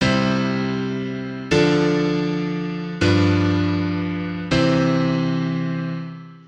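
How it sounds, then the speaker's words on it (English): Four sustained piano chords moving tonic, predominant, dominant and back to tonic, each struck about every 1.5 seconds and left to ring and decay, played alone with no talking. "So this final example of, once again, tonic, predominant, dominant, tonic, motion, sounds like this."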